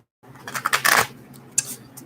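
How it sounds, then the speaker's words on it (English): Tarot cards are shuffled close by, a quick cluster of papery riffling and snapping followed by a couple of sharper flicks, with no talking. "I'm just going to shuffle these cards up a little bit more, just to get them nice and mixed up."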